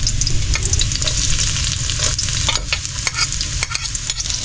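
Garlic sizzling loudly in a hot pan, a dense steady frying hiss close by, broken by repeated stirring scrapes and clatters of the utensil against the pan.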